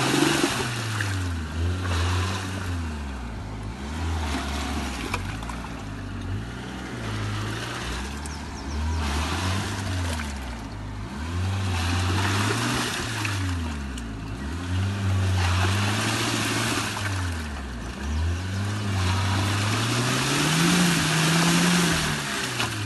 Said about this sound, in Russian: он газует и не проваливается